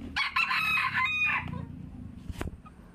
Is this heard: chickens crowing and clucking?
yes